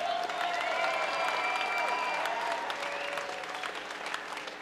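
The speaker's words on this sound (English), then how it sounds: "one more round of applause for a great fight" Crowd applause fills the venue after a three-round 110-pound women's bout at a Chosen Few Fighting Championships event, steady, dense clapping with scattered cheers that tapers slightly toward the end.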